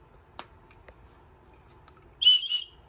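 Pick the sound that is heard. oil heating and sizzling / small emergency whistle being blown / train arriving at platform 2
small emergency whistle being blown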